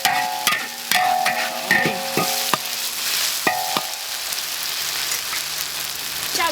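Beef stir-frying in a hot wok sizzles loudly while a metal spatula clanks and scrapes in quick, irregular strokes, the sizzle continuing after the stirring eases.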